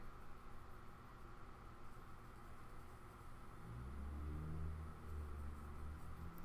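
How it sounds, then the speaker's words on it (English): Road traffic outside makes a faint steady rumble and wash, and a vehicle swells louder in the low range toward the end. "I have noticed traffic's been obnoxiously loud the past 24 hours."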